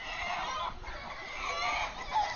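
A native country chicken clucks in a busy, overlapping flock of fowl calls, moderately close and continuous over a low rumble.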